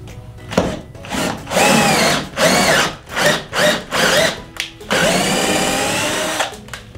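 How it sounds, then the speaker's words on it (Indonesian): A Xenon CDID1845 18V cordless drill whirs in repeated bursts, revving up and down as it bores into old teak wood, ending with a longer sustained run. "saya akan pakai buat ngebor kayu ini"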